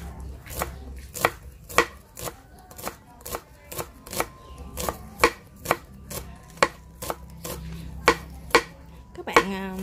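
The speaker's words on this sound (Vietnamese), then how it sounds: "các bạn băm nhuyễn nó luôn nha" A knife minces scallions steadily and rapidly on a cutting board, sharp regular thuds close by, with faint background noise and a brief clatter at the end.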